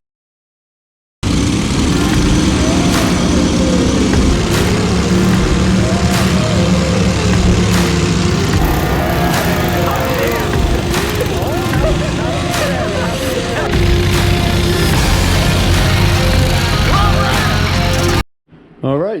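A Wheel Horse C 81 lawn tractor converted into an all-terrain mud mower runs with a loud, steady engine drone and rough mechanical rattle close by for most of the stretch, then cuts out briefly near the end.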